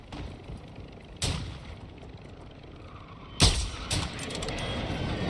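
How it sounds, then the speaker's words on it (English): Airstrike explosions in Call of Duty MW2 DMZ, two sharp heavy booms a couple of seconds apart with rumbling tails, the second louder and followed by lingering blast noise. "Friendly airstrike in the AO"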